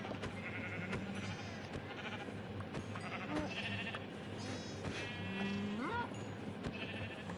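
Minecraft sheep bleating in a survival multiplayer world, several short bleats scattered over a steady background hum, faint and alone without speech.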